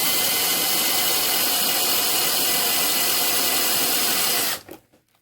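A small drill bores a hole into a 1970 Chevy Chevelle SS Hot Wheels die-cast car, a steady close whirring grind that stops abruptly near the end, leaving only faint handling noise.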